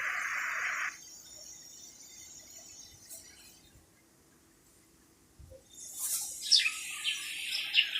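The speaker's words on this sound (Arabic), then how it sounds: "صوت عصافير ومش عارف ايه." Library sound effect of birds chirping, with bright high tweets and trills at the start and again near the end, separated by a quiet stretch; no talk.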